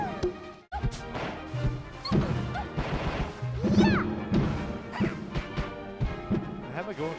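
Jigglypuff repeatedly using down smash in a Super Smash Bros. Melee match, with hard hits and crashing impacts mixed into busy game effects and music while commentators talk over it.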